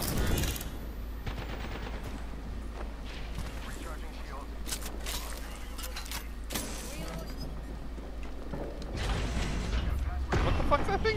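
Gunfire in the video game Apex Legends, with repeated shots and bursts mixed into dense, continuous game noise over about eleven seconds, under occasional talk.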